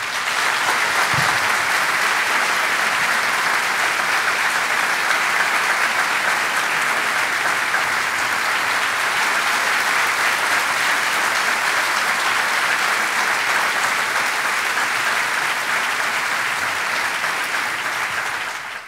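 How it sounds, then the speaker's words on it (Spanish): Sustained audience applause at a concert celebrating a school's 125th anniversary, welcoming pianist Horacio Lavandera; a dense, steady wash of many hands clapping, loud and even throughout before tapering at the very end. "Les pido un gran aplauso para darle la bienvenida a Horacio Lavandera."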